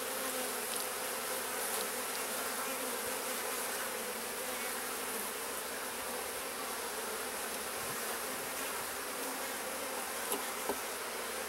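Honey bees, both drones and workers, crowd a hive frame during a beekeeping inspection, giving a steady close hum of buzzing that runs unbroken throughout with no talking.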